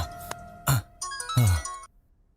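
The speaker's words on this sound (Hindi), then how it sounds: "किसका फोन आ गया?" A mobile phone ringtone sounds during a dramatic scene in a Hindi-dubbed South Indian film: a short, bright melodic tune played in a few separate bursts, fairly close, then it cuts off.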